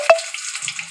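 Bajji fritters frying in hot oil for a pepper rasam dish, a steady broadband sizzle with a brief clink at the start and faint low stirring or scraping toward the end, close and moderately loud with no talking.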